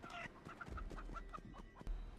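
Giant chicken in a horror video game, clucking in a quick run of short evenly spaced calls, faint, with no talk over it.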